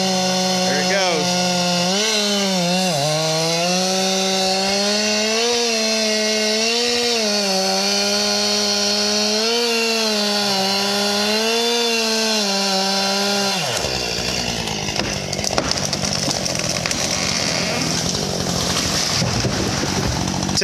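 Chainsaw cutting through a tree being felled, a loud close engine drone revving under load, then cutting off and giving way to a crashing, rustling fall; a voice speaks over it.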